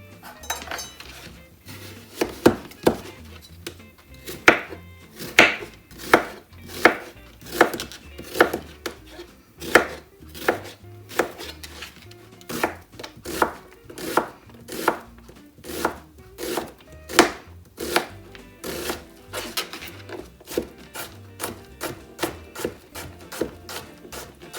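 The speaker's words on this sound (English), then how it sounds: "Is it just me, or does everybody like the sound of chopping?" Knife chopping through onion and other vegetables on a board in a home kitchen, crisp steady strikes close up, slow and uneven at first and then quickening into a fast even rhythm, with no talking.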